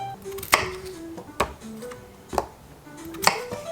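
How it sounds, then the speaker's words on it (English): A knife cuts potatoes on a cutting board in a home kitchen, four distinct chops spaced about a second apart, sharp and close over a faint background hum with no talk. "I'll cut these potatoes a bit smaller so they cook quicker"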